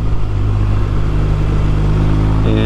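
A BMW R1200RTP police motorcycle laps a closed track, producing a loud, steady engine drone close by that holds an even pitch with a slight lift at the very end.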